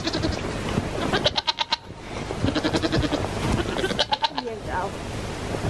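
Several goats bleat in quick, wavering cries, some close and some overlapping, with a person talking in between and a soft outdoor background during a snowstorm.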